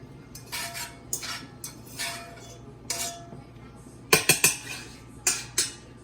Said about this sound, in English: I'm going to go ahead and take this meat and put it in this pot here